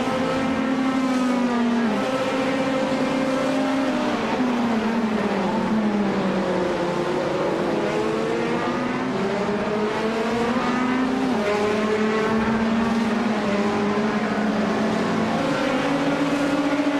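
Race car engine screaming at around 9,000 RPM in the iRacing simulation of the Daytona 24 Hours, a continuous loud high-pitched wail with rising and falling pitch as gears shift, steady throughout.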